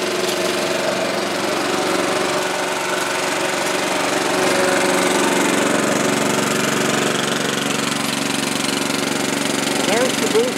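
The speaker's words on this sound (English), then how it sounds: "and there's the booster blower." Impact mill for grinding ore, running with its booster blower switched on, gives a steady loud mechanical roar and engine-like hum that holds constant throughout, with no one talking over it.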